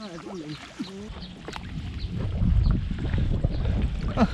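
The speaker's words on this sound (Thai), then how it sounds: "ลมมาแล้ว" Wind gusting over open water ahead of rain while fishing with a cast net, a steady rushing roar that builds louder through the clip, with a voice speaking briefly near the start.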